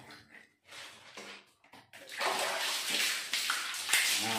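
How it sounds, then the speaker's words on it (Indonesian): Water is poured over a scrubbed surface to rinse it, first a few quiet splashes and taps, then a loud, steady gushing splash that continues to the end. "tinggal kita gosok-gosok ya, terus kita siram pakai air"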